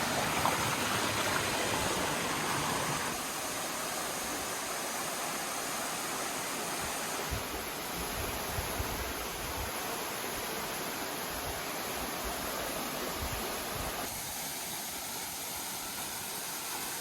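A river in the Vercors rushes along steadily, a broad, continuous wash of flowing water close by, with no voices and only slight shifts in intensity throughout.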